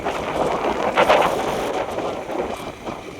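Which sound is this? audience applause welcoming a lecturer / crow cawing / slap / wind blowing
wind blowing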